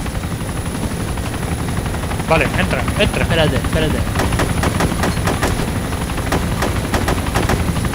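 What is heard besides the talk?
helicopter flying nearby in video game DayZ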